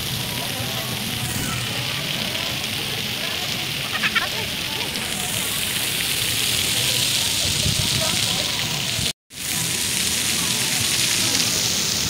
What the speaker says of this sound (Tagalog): A fountain. There's a fountain in there